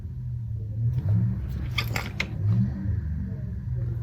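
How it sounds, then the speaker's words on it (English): An engine revving outside at a neighbor's place, a steady low rumble that swells twice, with faint higher clatter layered over it. "I think they're revving some sort of engine."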